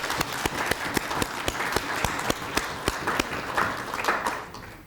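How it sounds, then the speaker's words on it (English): A crowd applauds steadily, with a dense patter of clapping and a few sharp, loud claps standing out before it fades. "And we need to clap hands."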